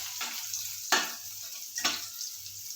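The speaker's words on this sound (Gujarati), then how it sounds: "3 થી 4 કળી ઝીણું લસણ સમારી દીધું એને આપણે સાતળવા દઈશું" Finely chopped garlic cloves sautéing in hot oil for macaroni pasta, a soft steady sizzle with occasional louder stirring scrapes, close and alone.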